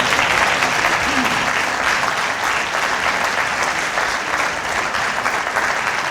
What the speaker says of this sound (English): Let's give Brother Osama Jamal another round of applause.